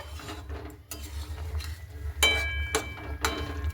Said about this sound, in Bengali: এইভাবে হালকা করে একটু নাড়াচাড়া করে নেবো